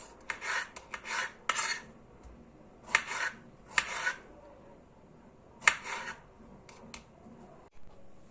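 Quick bursts of knife strokes chop against a cutting board in uneven clusters, fairly close and moderately quiet, with pauses between.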